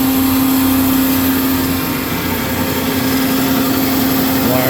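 A Marvel MV 525 vertical mitering bandsaw with hydraulic drive runs continuously, a loud steady machine drone with a constant tonal hum and broadband noise throughout.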